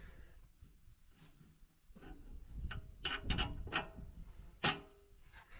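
A 48 mm metric wrench works on a machine at a cattle ranch, giving a few sharp metallic clicks and clanks at irregular intervals over a low background rumble, close and moderately loud.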